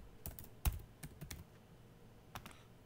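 Keystrokes on a computer keyboard while entering a search term, a handful of quiet, separate clicks in an irregular rhythm, close and alone with no talk.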